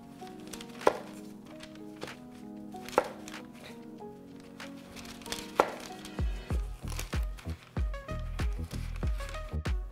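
A knife thuds against a cutting board while a jalapeno pepper is cut and its seeds and membrane are removed for guacamole. A few sharp separate chops come first over faint background music, then a quicker run of softer close thunks.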